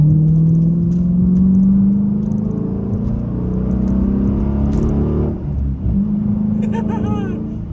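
Dodge Challenger SRT8 accelerating hard, its V8 engine revving and climbing in pitch as a loud, close, steady roar, easing briefly before building again.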